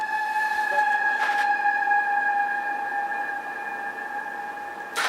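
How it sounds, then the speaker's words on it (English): A siren wails outside an apartment in Japan, its steady two-tone pitch sustained and fairly loud throughout, with a brief broadband burst partway through. "There had to be a siren just as I'm talking there."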